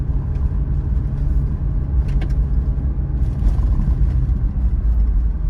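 Toyota 4Runner TRD Pro engine at about 2,500 RPM at 25 mph on a rough off-road track, towing an off-road trailer: a steady, loud low rumble with faint rattles on top and no talking.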